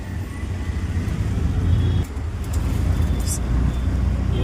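Steady road traffic outside a cricket stadium in India, a continuous low rumble of cars, buses and trucks with a brief dip midway and a faint high hiss near the end.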